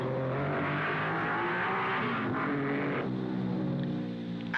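A 1955 Formula 1 race car rounds the Monaco hairpin, its engine a loud, harmonic-rich snarl that holds steady and shifts slightly in pitch near the end. There is no talking.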